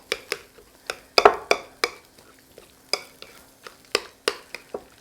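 Peppers and onions stirred in a pan, giving a steady run of sharp scraping taps from the utensil roughly every third of a second, close and fairly quiet, with no talking.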